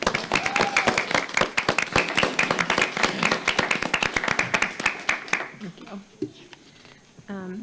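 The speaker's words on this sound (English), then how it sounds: "Maybe we can do a little round of applause if anybody is listening or here." A round of applause at a school board meeting: a small group claps in a fairly sparse, uneven rhythm for about five seconds, then fades into quiet room sounds and a brief voice.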